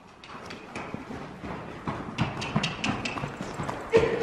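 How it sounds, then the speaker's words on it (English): Mares and ponies at a free-jumping session clip-clop over ground and a jump, a run of irregular hoof thuds that builds gradually in loudness, close to mid-distance, with no talking. "We're gonna see if each horse, each pony will follow their owner over the jump."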